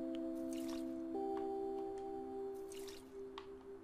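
Water poured over dead flowers in the video game OMORI gives a soft, repeated dripping and splashing against a steady tonal game music bed, moderately close and fairly quiet.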